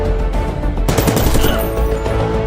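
A gunshot rings out in an action film scene, a loud, sharp burst over a dense, continuous soundtrack, with the noise swelling around it.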